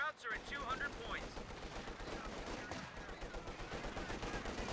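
Aircraft strafing gunfire in a World War II strategy game: a dense, continuous rattle of rapid automatic shots that starts abruptly after a quiet instant and holds loud and steady throughout, with no speech.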